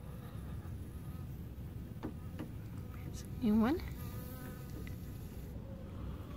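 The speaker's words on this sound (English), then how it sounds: "I count 4 bees over here." Honeybees buzzing around a backyard water source where chickens also drink, small wingbeat hums passing close to the microphone against a steady outdoor background, with a brief spoken remark midway.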